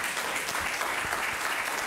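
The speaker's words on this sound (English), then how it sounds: "Let's give them a round of applause again." Church congregation applauding at a Sunday service, steady dense clapping from a crowd filling the room at even loudness throughout.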